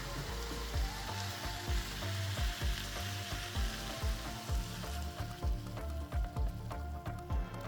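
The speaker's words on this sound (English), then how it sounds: "here we're adding about 32 ounces of pasta sauce to our meat. Then we'll allow it to simmer for about 10 to 15 minutes" Ground meat simmering in about 32 ounces of pasta sauce, a steady close bubbling sizzle with soft pops and occasional stirring scrapes, no voices.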